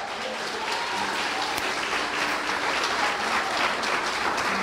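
A church congregation applauds during a sermon, steady dense clapping from a crowd of worshippers holding at an even level throughout, with little talk.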